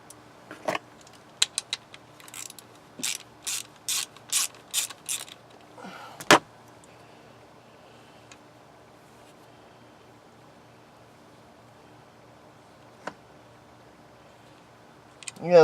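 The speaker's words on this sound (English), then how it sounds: "So now I'm removing the 3 bolts" Bolts are worked loose from the window regulator motor of a 2003 Chevrolet Monte Carlo, with a quick series of sharp metallic ratchet clicks close by, a clank, then quiet with a couple of isolated taps.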